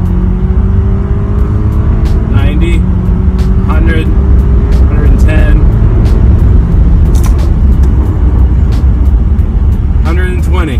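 A BMW E60 M5 pulls hard from 50 mph, its engine note climbing steadily and loud inside the cabin, with a person talking over the rising roar.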